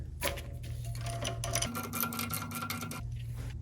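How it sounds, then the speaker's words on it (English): A ratchet and socket loosen a 12mm bolt on a Toyota Camry with a 2.2L engine during timing belt work, giving a close, fast, even run of mechanical clicking that goes on without a break and has no talk over it. "I will now loosen this 12mm bolt"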